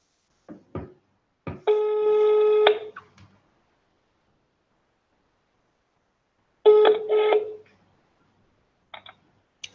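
A call rings out while a webinar participant is being reconnected: short clicks, then two bursts of a bright, buzzy ringing tone several seconds apart, followed by a couple of faint beeps.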